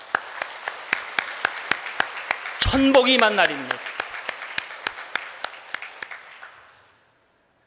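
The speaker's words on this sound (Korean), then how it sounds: "우리 축복의 박수 하겠습니다" Steady congregation clapping fills a church, with sharp rhythmic claps continuing throughout as a voice speaks briefly in the middle, then the applause fades out.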